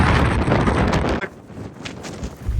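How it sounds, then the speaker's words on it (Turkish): Strong wind in a mountain snowstorm roars and buffets the microphone, loud and continuous, easing briefly before gusting up again. "Efsane bir rüzgar var."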